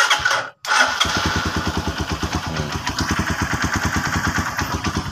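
A motorcycle engine starts up close by after a brief cranking sound and settles into a loud, steady rhythmic idle, with the starter motor left unbolted.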